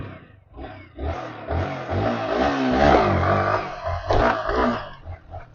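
Motorcycle engine, with a Yamaha R1 and a Suzuki Hayabusa present, revving hard for a wheelie, a loud sustained roar rising and falling nearby with crowd noise around it.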